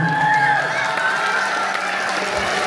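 Audience applause and cheering at a charity concert, a continuous, loud wash of crowd noise with a whistle-like tone sliding through the start, sustained evenly throughout.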